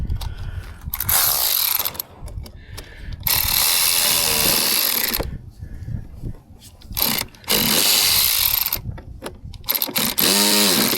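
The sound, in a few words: ratchet tightening ignition coil parts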